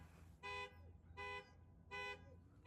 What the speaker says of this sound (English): Mr. Caden, who just set off his truck alarm on accident.